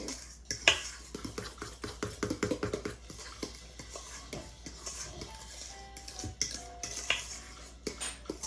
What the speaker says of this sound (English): so now you're going to mix that in